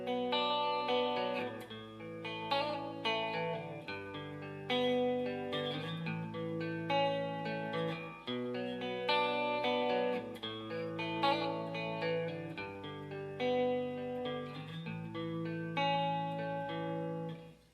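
An Epiphone Les Paul Classic electric guitar with both pickups coil-split plays a clean tone, strummed chords ringing steadily and fairly loudly with no voice over it.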